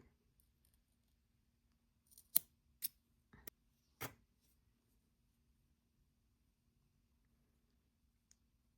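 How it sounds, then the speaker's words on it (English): Scissors snip through crochet yarn in four sharp, close clicks spaced about half a second apart, set against near silence with faint background hum. "I pulled it out just enough for me to cut it."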